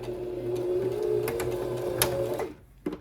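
A sewing machine runs a steady stitch along a jacket seam for a couple of seconds, then stops with a brief click; no talking.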